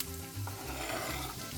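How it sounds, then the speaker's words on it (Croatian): Chopped onion hitting heated oil in a pan, a steady close sizzle and crackle that holds evenly throughout. "Evo, kada se ulje zagrejalo, ubacujemo luk"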